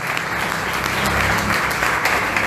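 A church congregation applauds near the end of a sermon, loud sustained clapping from many hands with crowd voices mixed in throughout.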